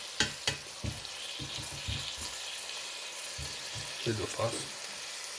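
Paupiettes brown in olive oil in a pan, giving a soft, steady sizzle with a few scraping stirs and light clatter, while a person speaks briefly over the frying.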